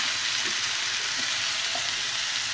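Chicken leg tikka pieces fry in a pan with a dense, steady, loud sizzle and a few faint pops, and no voices.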